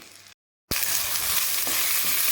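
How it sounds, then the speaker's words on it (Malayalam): Capsicum and onions sizzle as they are sautéed in a pan for a rice and moong dal dish, a steady frying hiss that resumes after a brief silent break, with faint stirring knocks. "ക്യാപ്സിക്കം ഇട്ട് ചെറുതായിട്ട് വഴറ്റുക"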